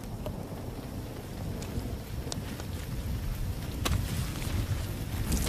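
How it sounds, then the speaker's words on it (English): Rain falls outdoors as a steady, fairly loud wash of noise with low rumbling and wind buffeting, plus a few faint knocks, with no voices. "Hey, Ma, it's raining."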